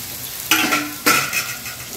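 Beans, carrot and capsicum tossed into a pan with onions for vegetable fried rice, two sharp bursts of sizzling and stirring scrapes over a steady background frying hiss, close up with no speech.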